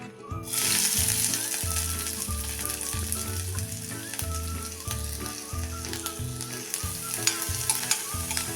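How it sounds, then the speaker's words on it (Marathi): Loud continuous sizzling of onion in hot oil, with rhythmic scraping of a utensil stirring the pan throughout. "ह्या तेलावर पहिल्यांदा आपण हा कांदा परतून घ्यायचा आहे"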